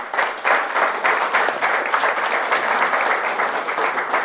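An audience applauds steadily to welcome the 1817 Project team at a Making Michigan lecture, dense sustained clapping from a room full of people with no voices over it.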